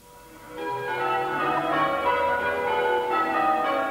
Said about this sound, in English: the campanologists of St Mary's Church at Whickham on Tyneside are spending this year trying to beat the current record